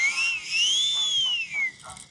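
A toy aeroplane whistle gives a thin, high, wavering tone that rises and falls like a distant jet, then breaks into a few short breathy bursts, with no talk.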